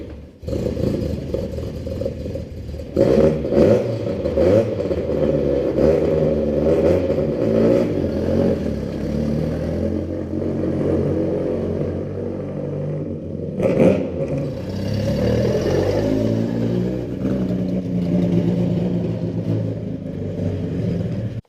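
A Ford Escort Mk2 car engine running rough while out on a drive, a loud, steady rumbling drone with uneven clattering pulses and a few rises in revs, no talking.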